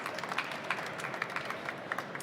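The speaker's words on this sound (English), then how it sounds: "Give him an applause" Faint, distant applause from a conference audience at Hannover Messe welcoming a speaker onto the stage, a steady patter of many hands clapping.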